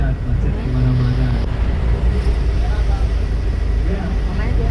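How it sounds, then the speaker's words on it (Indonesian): Road traffic crawls through a jam in Bandung's old town, a dense loud wash of car and motorbike engines with a brief low horn-like tone near the start. "Lihat macet di mana-mana."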